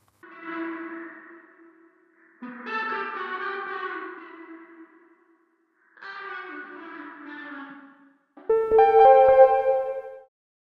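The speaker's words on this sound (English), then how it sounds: "Use Waves Audio Magma Spring reverb." Vocal phrases processed through a Waves Audio Magma Spring reverb plugin, four sung bursts with lush echoing tails, the last one brighter and more resonant, with short silences between them.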